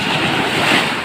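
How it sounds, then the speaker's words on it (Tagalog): Surf breaks steadily against a shoreline in a continuous loud wash of water, with wind rushing across the microphone and no voices. "Ang sobrang alon ng baybaying dagat ngayon."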